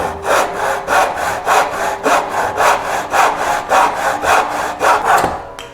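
A hand saw trims a milled pine board to length for a step stool, its strokes loud, close and steadily rhythmic, about a dozen back-and-forth passes before stopping.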